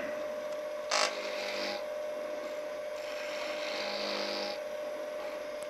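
A 3/8 inch spindle gouge taking a slicing cut on a small wooden goblet spinning on a wood lathe: a steady motor hum with a brief sharp burst near the start, then a soft hissing shave of wood that rises and fades, close and moderate.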